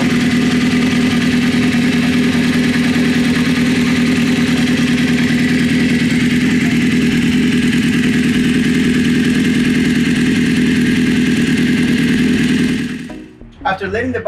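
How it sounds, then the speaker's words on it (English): Suzuki GSX-R 600 sport bike engine idling at close range: a loud, steady, even hum with a constant low drone that holds for most of the time, then stops abruptly near the end. "While the bike is running, it's a good time to check for leaks"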